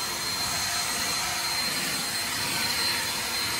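An Aoetree lightweight cordless electric leaf blower rated at 500 CFM runs on its turbo setting, giving a loud, steady, close-up rushing roar of air that holds evenly throughout with no talking.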